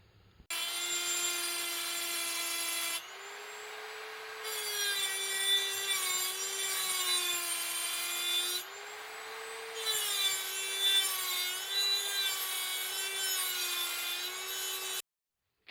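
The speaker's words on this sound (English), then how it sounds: "I will take the Dremel tool and remove everything that is colored in black" A Dremel rotary tool carves away black-painted areas on a handmade shield prop, a loud steady high whine that rises and falls in pitch as it bites into the material, pausing briefly between passes.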